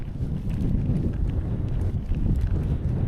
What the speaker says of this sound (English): So cold and so windy.